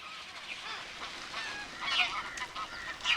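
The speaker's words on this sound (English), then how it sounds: "All around, the marshes are bursting with the arrival of tens of thousands of waterfowl from Siberia, Mongolia, and China." Large flocks of migrating waterfowl, geese and ducks, honk and call across flooded monsoon marshes in Kaziranga, a dense, fairly distant chorus with a few louder calls standing out.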